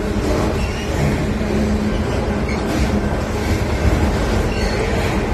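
A southbound freight train led by a GP60M locomotive, with a Norfolk Southern rebuilt DPU, crawls through town, giving a steady, fairly loud rumble of rolling wagons with faint wheel squeal and clanking throughout.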